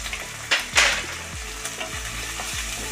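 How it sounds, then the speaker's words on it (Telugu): Chicken curry sizzles and fries in a pan while a spoon stirs it, with a few sharp scraping strokes early on over a steady close sizzle. "ఇంకా కొంచెం యాగనిద్దాం పచ్చివాసన కింద."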